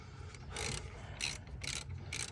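A hand ratchet clicks in several quick bursts while loosening the brake caliper bracket bolts on a 2006 Dodge Ram 1500 Mega Cab, close-up, with short pauses between bursts and a low background hum.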